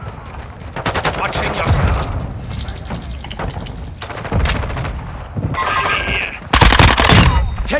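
Heavy gunfire fills a Call of Duty MW2 Team Deathmatch round on the Shoot House map, with loud rapid automatic bursts and booming impacts throughout, while a voice briefly speaks over the shooting.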